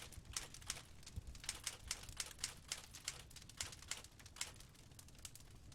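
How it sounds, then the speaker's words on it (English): A typewriter clacks in the video game Virtual Cabin, rapid irregular keystrokes tapping steadily and fairly faint for several seconds with no talk. "you hear some typing, right?"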